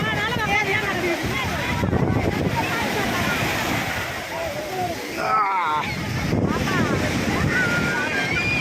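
Sea waves wash ashore at night beside the Tiruchendur Murugan temple, a steady loud surf roar with wind buffeting the microphone, continuous throughout with a brief dip midway.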